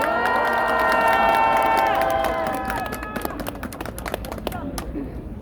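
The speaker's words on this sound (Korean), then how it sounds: "힘찬 박수 부탁드립니다." A crowd at a Korean protest rally against the release of Fukushima contaminated water cheers and shouts loudly, and the roar fades into scattered clapping and calls.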